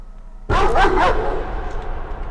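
A single loud dog bark in the horror game Layers of Fear: Inheritance, sudden and close, with a hollow, echoing tail that fades slowly into low ambience.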